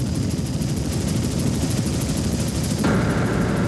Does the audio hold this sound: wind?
no